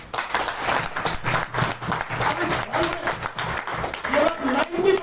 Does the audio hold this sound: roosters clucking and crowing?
no